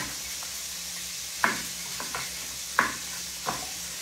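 Chopped onion frying in a pan, with a steady soft sizzle and four distinct scraping stirs of a utensil against the pan spaced through the stretch, no voices.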